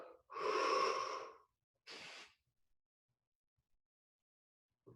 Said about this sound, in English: Breathing in on the way up.